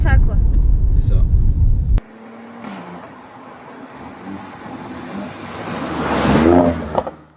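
A Mercedes C43 AMG engine rising in pitch as the automatic gearbox downshifts under throttle, a steady revving drone that climbs and swells to a loud peak near the end after a sudden drop in level.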